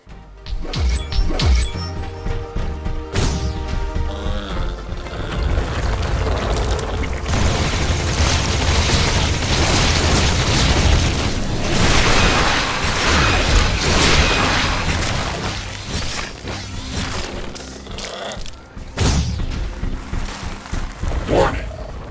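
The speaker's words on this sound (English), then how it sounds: "I detected a nearby volcano explosion. Prepare for volcanic rock bombardment." In The Riftbreaker video game, a volcano explosion erupts as loud, sustained booming and crashing rumble that builds and then eases over about twenty seconds, with rock impacts and game effects layered over it.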